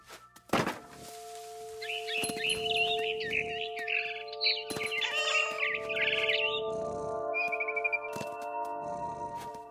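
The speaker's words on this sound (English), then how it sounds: "Then I heard chirping outside my window. It was a barn swallow going back to her nest." Barn swallow chirping outside a window near its nest in the video game What Remains of Edith Finch; bright repeated chirps and twitters over a steady tonal hum, with a few soft thumps.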